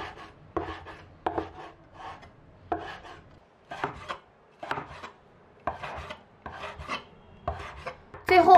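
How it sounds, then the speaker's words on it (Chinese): Knife cutting skinned fresh pork hind leg into small pieces on a board, a series of short rasping slices in irregular bursts, close and alone, with a louder clatter at the very end. "再把肉全部切成小块"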